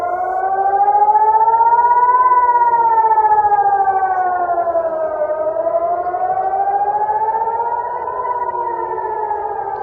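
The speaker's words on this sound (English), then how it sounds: "So this is the sirens he was referring to." Air raid sirens wail in Israel during an Iranian missile attack: a loud, continuous siren tone that slowly rises and falls in pitch across the whole stretch, with no voices over it.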